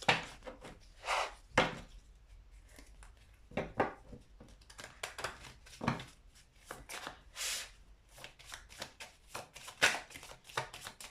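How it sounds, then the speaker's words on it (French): Tarot cards are shuffled and drawn with soft riffling, rubbing and tapping bursts that come in an uneven rhythm, close but quiet, and no one speaks. "On va tirer quelques cartes"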